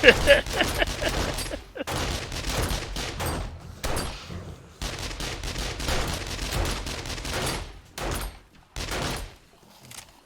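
9mm gunfire in the game 7 Days to Die, loud rapid bursts of shots in several volleys separated by brief pauses, with some talk underneath.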